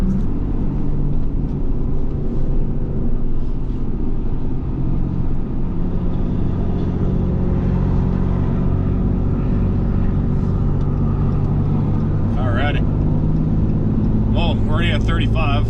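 Ram 3500 dually pickup towing a CAT 310 excavator onto a highway, a loud, steady engine and road rumble from inside the cab throughout, with a few brief chirpy tones near the end.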